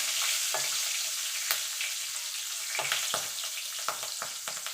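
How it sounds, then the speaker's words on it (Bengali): Nigella seeds and split green chillies sizzle in hot oil as a tempering for a light rui fish curry with potato and papaya. A steady, close hiss carries occasional clicks and stirring scrapes, with no voices. "ফোড়নে দিয়ে দেবো কালো জিরে দুটো কাঁচা লঙ্কা চেরা"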